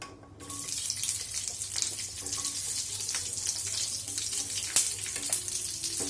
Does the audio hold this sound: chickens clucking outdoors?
no